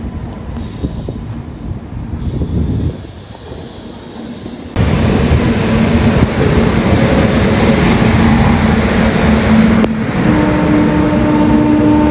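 A WAP7 electric locomotive on an express train at Visakhapatnam station gives a steady, loud rumble of rolling stock and machinery that swells partway through and holds, with a high whine above it.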